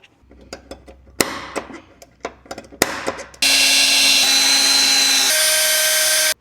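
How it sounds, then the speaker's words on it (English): A power drill bores a hole through a 10mm bolt on a motorcycle in a workshop: scattered clicks and clanks from handling first, then a loud steady high-pitched whine from the drill running for about three seconds. "I'm gonna drill a hole through this 10mm bolt right here"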